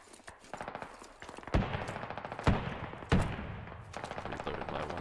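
Gunfire in the tactical shooter Squad: rapid bursts of automatic fire with several louder sharp reports standing out, fairly close and repeated throughout.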